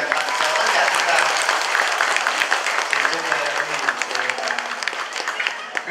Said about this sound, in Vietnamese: Một tràng vỗ tay cuối cùng dành tặng cho tất cả chúng ta